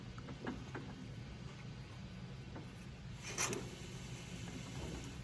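Short metallic scrapes and clicks of a screwdriver tightening screws into locking hardware on an aluminum beam gate, close and faint over steady outdoor background noise.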